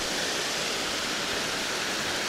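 River water rushes in a dense, steady broadband roar during a river crossing, constant and close with no voices above it.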